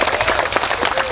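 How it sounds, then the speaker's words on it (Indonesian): Applause from a sermon audience, a dense wash of many hands clapping steadily and fairly loud throughout, with no voice over it. "Tepuk tangan dulu untuk Islam itu indah."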